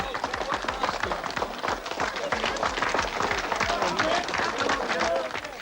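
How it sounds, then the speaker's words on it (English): Large cricket crowd giving a standing ovation as batsman Geoffrey Boycott leaves the ground, dense sustained applause and clapping with crowd noise throughout, loud and continuous. "Boycott strode from the ground to an ovation from a large section of the crowd."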